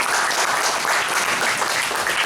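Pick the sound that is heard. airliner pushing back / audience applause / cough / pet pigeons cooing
audience applause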